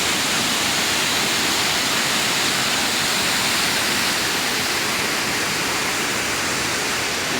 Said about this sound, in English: Now those are what I would assume they call the high falls